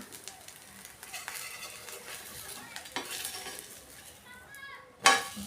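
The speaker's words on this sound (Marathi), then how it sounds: "आता यामध्ये आपण तेल घालून घ्यायचं आपण थालीपीठ पलटी करून घेऊया" Thalipeeth flatbread, a spring onion version, frying in oil in a pan, with a steady soft sizzle and occasional scraping, then a sharp louder burst of sizzle as it is flipped near the end.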